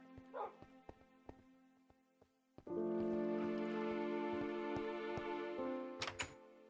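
Minecraft wolves or tamed dogs in a farm setting yip and whimper in short, scattered bursts, then a steady droning tone swells in over them and holds, with a brief sharp burst near the end.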